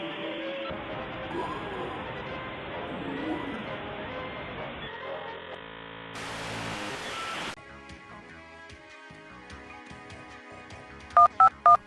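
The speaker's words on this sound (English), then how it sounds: "Unless you're still using dial-up, that is. Dial-up is bad." Dial-up internet connection tones: a dense, noisy modem handshake with shifting bands and a burst of bright static, then steady carrier tones and a few sharp beeps near the end.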